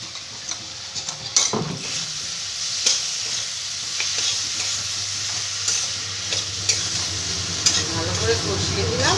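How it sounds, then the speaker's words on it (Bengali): A vegetarian curry with slit green chillies and sugar is stir-fried in a pan, with continuous sizzling, repeated scraping stirs and occasional clinks of a utensil against the pot, close and fairly loud throughout. "ভালো করে কষিয়ে দিলাম।"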